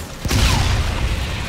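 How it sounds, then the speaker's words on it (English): Grenade explosion in the video game Call of Duty: Infinite Warfare, a sudden loud low boom followed by a sustained rumbling roar of debris and combat noise. "Oh, shit, grenade."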